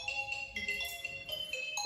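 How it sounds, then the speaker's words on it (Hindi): Mobile phone ringtone playing an incoming-call melody of repeating bright tonal notes, steady and moderately loud, in a home setting. "तो गाइस उसी का फोन आ गया है।"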